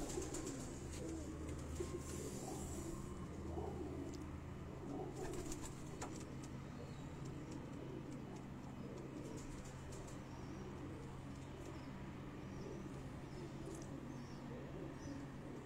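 Sialkoti pigeons in a breeder's loft cooing softly, a low, continuous murmur of several birds nearby with faint background noise and occasional rustles.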